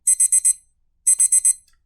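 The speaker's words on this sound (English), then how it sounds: "I had set my alarm at 4:30, which must have been the source of all the noise" An animated alarm clock beeps in two loud bursts of four rapid electronic beeps each, separated by a short silence.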